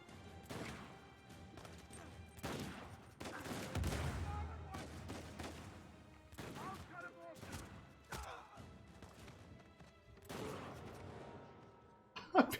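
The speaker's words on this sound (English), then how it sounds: "People are just shooting me from every direction" Gunfire from the Uncharted 4: A Thief's End video game, scattered bursts and shots arriving in uneven clusters with crashing impacts, mixed under a player's talk throughout.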